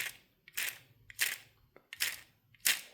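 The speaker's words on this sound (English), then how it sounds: "You'll hear clicking in there." Soft, sharp clicks repeat in quick pairs at a steady, mechanical rhythm from a battery-powered Brio toy train's power car, faint and close, with quiet pauses between them.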